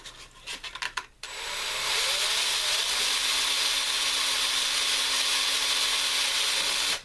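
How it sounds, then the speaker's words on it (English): A power tool spins sandpaper against copper, starting after a few clicks and handling knocks and then holding a loud, steady whirring hum with a high hiss for several seconds before stopping. "we're going to put some sandpaper around this and spin it"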